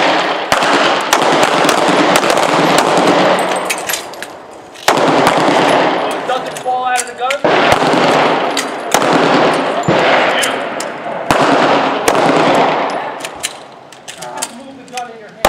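Handgun shots fired in pairs during a defensive handgun drill on a range, sharp loud cracks coming in rapid bursts with brief pauses between strings, some echoing from several shooters.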